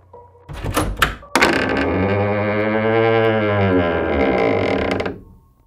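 A creaking door slowly swings open as a sound effect in an Indonesian village horror story about a pocong: a few dull thumps, then one loud, drawn-out groaning creak of about four seconds.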